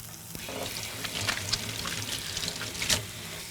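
Calamari sizzling in a hot cast iron grill pan, a steady close frying hiss with a few brighter pops and crackles.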